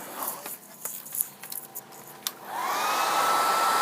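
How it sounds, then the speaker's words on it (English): A hair dryer switches on and blows with a steady, loud whoosh and a faint whine, after a few soft taps and handling noises, drying acrylic craft paint sprayed on a model car body. "Grabbed the hairdryer."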